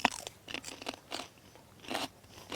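Fresh crunchy garden peas are bitten and chewed outdoors in sunshine, giving a series of crisp crunches in uneven bursts, close and fairly quiet, with no talking.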